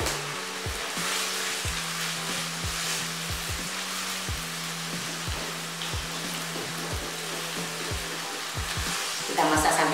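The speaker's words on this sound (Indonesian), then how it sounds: "Kita masak sampai dia mengering ya." Tempeh filling seasoned with salt and sugar cooking down in a pan with water until dry, a steady close sizzle and bubbling hiss throughout with a low hum under it.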